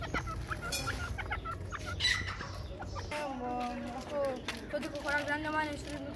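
Partridge calling near birdfeeding, with pigeons and a rabbit around, a series of short clucking, chicken-like calls repeating over steady background, with a voice talking at times.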